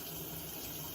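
Water runs steadily from a tap, a continuous soft hiss and wash at low level with no voices.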